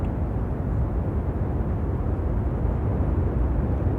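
North American XB-70 Valkyrie jet aircraft in flight, a continuous deep engine roar with heavy low rumble, steady and loud throughout with no voices.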